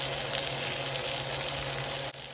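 A thin hamburger patty fries slowly in a pan, giving a steady, even sizzle close by with no talk, ending in a slight drop near the end.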